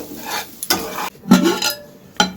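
Close scraping strokes of a spoon stirring soybean curry with cumin, chilli powder, ginger-garlic and chopped onion in a pan, a few separate stirs over a soft sizzle.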